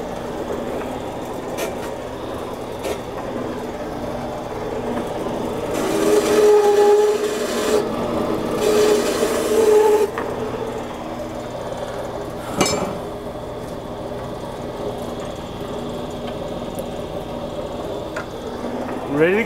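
A cheap bandsaw cuts an oiled, clamped workpiece, a sustained buzzing whine that swells for several seconds in the middle of the stretch with motor hum around it; someone talks over parts of it.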